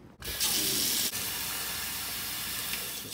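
Water pours steadily into a cup of instant ramen, a continuous close hissing splash that runs nearly unbroken for a few seconds with a brief dip partway through.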